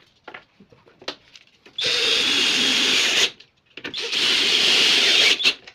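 A cordless power drill drives screws into the wooden parts of a dresser during home assembly, two loud sustained whirring bursts with brief clicks and handling noises before and between them.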